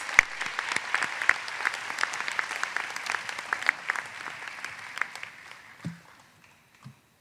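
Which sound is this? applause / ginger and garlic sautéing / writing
applause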